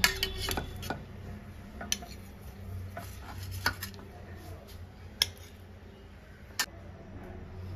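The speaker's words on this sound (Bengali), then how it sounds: "এবার আমি এগুলো একটা প্লেটে তুলে নেব।" Egg and teasel gourd being lifted from a pan onto a plate, with sharp clinks and scrapes of utensil on cookware at uneven intervals over a low steady background hum.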